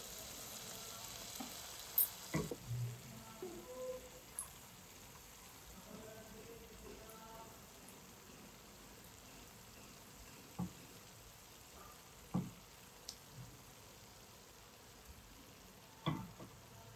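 Amudi fish frying in a pan of cooked-down spice masala, a steady quiet sizzle and crackle with occasional sharper pops and clinks as pieces are added one by one, no talking.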